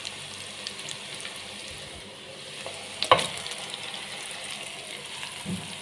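Tomato sizzling and frying in vegetable oil with onion in a pot, a steady crackling hiss throughout with a brief clatter of stirring midway.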